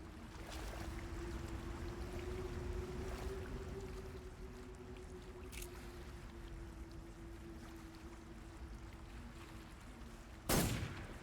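A single sharp, loud gunshot from the video game Metal Gear Solid 3 cracks near the end, over a steady low hum of waterside ambience with no talking.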